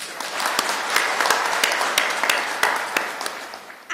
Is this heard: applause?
yes